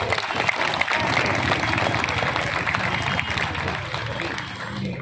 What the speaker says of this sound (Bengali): একবার জোরে হাততালি সবাই